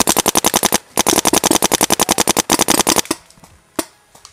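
Friendly fire breaks out in a video game as loud, rapid automatic gunfire rattles in fast bursts, with a short gap between them and a couple of isolated shots trailing off.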